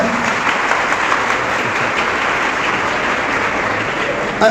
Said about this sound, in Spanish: Aplausos pues para los sacerdotes que también nos acompañan.